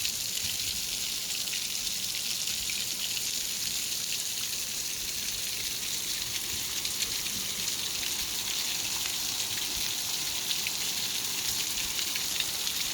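A continuous wash of rainfall pours down in quiet mountain surroundings, a moderate, unbroken hiss of drops on surfaces lasting throughout with no talking.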